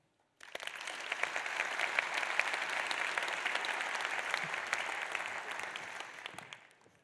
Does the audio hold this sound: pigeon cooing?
no